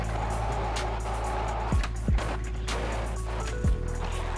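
Vehicles in the skateboarding game Skate 3, a steady engine drone with several quick pass-bys, each a brief swelling whoosh, at moderate level with no talk.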